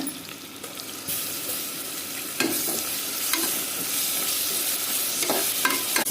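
Ginger garlic paste hitting hot oil with onions in a pan for a millet vegetable biryani, a loud bright sizzle that flares and holds steady, with occasional stirring scrapes, close up and without speech.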